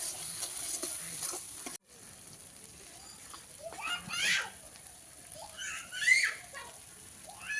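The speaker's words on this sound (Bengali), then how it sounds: "হলুদ গুঁড়ো দেবো মশলাটাকে ভালো করে কষিয়ে নেবো" Spice paste with turmeric and salt frying for a cauliflower curry, a soft sizzle broken by a few louder bursts of spatter and stirring, with talking heard faintly in the background.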